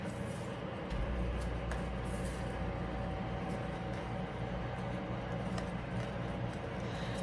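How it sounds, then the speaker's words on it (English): An electric fan runs steadily in a hot room, giving a constant broadband whooshing hum with a low drone, close and fairly quiet, with no talking. "so I got the fan going"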